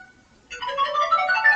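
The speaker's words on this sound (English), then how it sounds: "Whose cell phone's ringing?" A bright, ringtone-like electronic jingle from the Link's Awakening video game starts about a third of the way in after near silence, then plays steadily and fairly loud to the end, with no talking over it.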